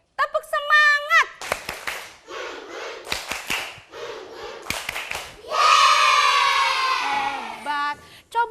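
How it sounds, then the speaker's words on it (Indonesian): Rhythmic group clapping from first-grade children in an elementary school class doing the 'tepuk semangat' routine: patterned bursts of sharp claps between chanted words, closing with a loud sustained collective shout. "Oke, tepuk semangat."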